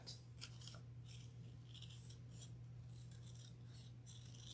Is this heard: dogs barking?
no